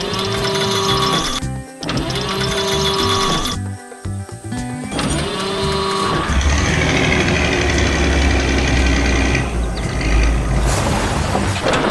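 Cartoon yellow construction machine and silver car at work, giving a steady mechanical whirring and engine hum with tonal, musical layers, broken by brief pauses and shifting into a rougher, louder rumble in the second half.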